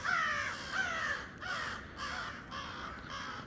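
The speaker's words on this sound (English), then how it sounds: "Oh, there's the crows." Several crows caw from the trees near a woodland clearing of wind-fallen firs, giving loud repeated calls in bursts that fade in and out, close by with no talking.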